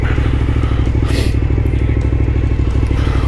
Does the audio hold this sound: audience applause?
no